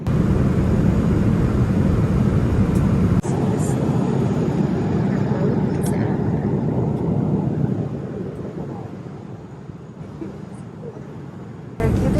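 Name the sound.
airplane cabin noise during a flight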